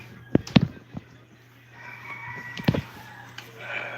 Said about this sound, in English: Ah, the sounds of roosters and chickens and stuff, huh?